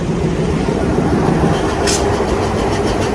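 A loud, continuous rumbling roar of a passing train, steady throughout with a brief hiss partway through.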